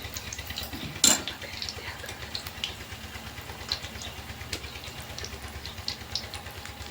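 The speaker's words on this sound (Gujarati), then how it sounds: "કામકાજ તળવાનું ચાલુ છે ભેજિયા તળવાનું સરસ પોસા પોસા ભેજિયા બની રહ્યા છે" Methi and chili bhajiya fritters fry in oil with a soft, steady sizzle. Utensils clink and scrape now and then, with one sharp metallic knock near the start.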